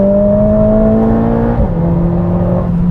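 A Mercedes-AMG A45S four-cylinder engine revs hard at high RPM, a loud, close, steady strained drone that shifts pitch slightly midway as the throttle changes, with no talking.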